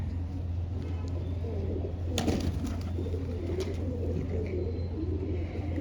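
A Rampuri pigeon crossed with Jaldar stock, at a Lucknow pigeon market, gives soft, continuous low cooing over a steady background hum, with no voices.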